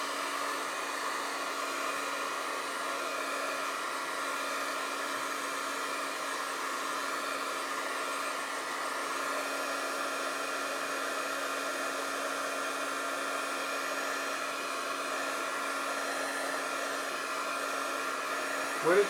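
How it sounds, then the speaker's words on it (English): A heat gun blows steadily on a fresh craft project with a constant, even whir and hiss that holds for the whole stretch, loud and close with no talking. "I'm going to give it a quick dry with my heat gun"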